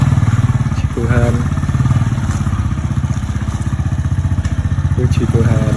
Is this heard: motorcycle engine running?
yes